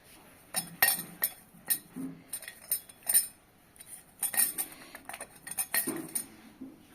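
A metal chakli press is handled and greased with oil, giving a series of close, sharp metallic clinks and taps at irregular intervals, with no talking.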